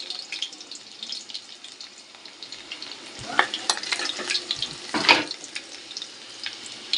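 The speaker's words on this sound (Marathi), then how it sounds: "तेल गरम झालं आहे आता थोडं लसूण टाकते दोन तीन पाकळ्या लसूण आहे" Garlic cloves fry in hot oil in a wok, a thin steady sizzle with a few louder crackles and scraping stirs partway through.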